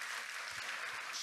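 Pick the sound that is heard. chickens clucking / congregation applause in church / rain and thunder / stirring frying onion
congregation applause in church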